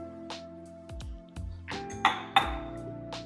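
A spoon stirring a citron lemon drink in a large vessel, giving a few soft, scattered metallic clinks and taps against the sides, faint and spaced apart.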